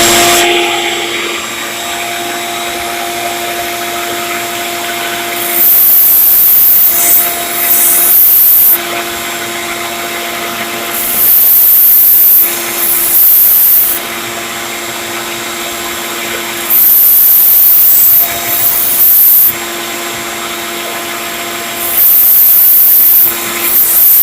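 A belt sharpener grinds a Henckels chef knife in repeated loud passes, each a harsh, hissing whine of a few seconds over a steady motor drone, with regular pauses between strokes.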